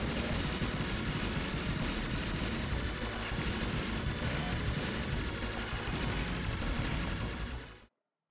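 Dense, continuous gunfire and explosions from the SNES plane shooter Aero Fighters, loud rapid blasts layered without pause for nearly eight seconds before cutting abruptly to silence.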